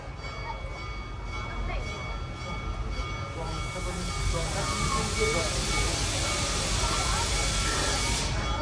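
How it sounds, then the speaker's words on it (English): The Serengeti Express safari train at Busch Gardens Tampa Bay pulls out of the station with a steady rumble and hiss that builds slowly and continues throughout. "As we depart from the station"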